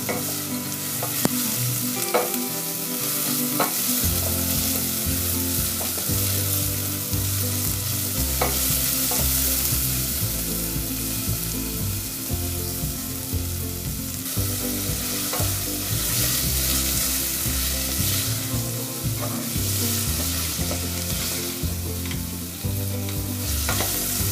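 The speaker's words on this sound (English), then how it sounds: "Saute till the onion becomes just tender and it starts to change its color" Onions sautéing in a pan for pulav, with continuous stirring and scraping over a dense, steady sizzle that stays close and loud throughout.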